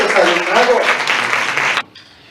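A church congregation claps loudly and steadily during a Sunday sermon, the applause cutting off abruptly near the end, leaving quiet room tone.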